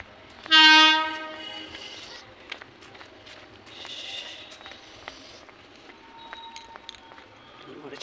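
A slow train pulling into a station sounds a loud, brief horn blast near the start, then rumbles and clatters along the rails with further faint whistles, as people talk nearby.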